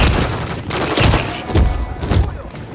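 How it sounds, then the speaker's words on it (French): Rapid bursts of gunfire in the video game Call of Duty: Modern Warfare III, heavy thudding volleys repeating roughly every half second over a constant roar of battle noise. "Ils m'ont repéré, j'essuie des tirs."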